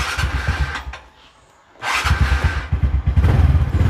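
A scooter engine starts up after a short pause when the right-hand brake lever is pressed, then settles into a loud, close, chugging idle.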